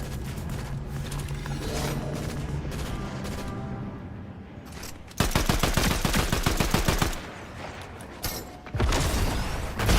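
Pistol gunfire in a video game, heard as rapid bursts of sharp repeated shots over a busy game soundtrack, with a dense loud volley in the middle and another burst near the end, no talking.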